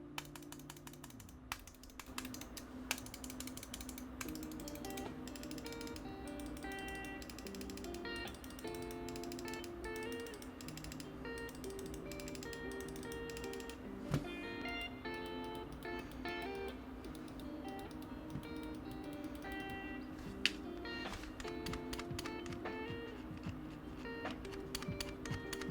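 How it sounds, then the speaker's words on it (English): Glorious Model O Wireless gaming mouse buttons clicking in a steady run of sharp, close mechanical clicks over a constant hum-like background, with a few louder snaps standing out. "So here's a little sound test of the buttons on the mouse."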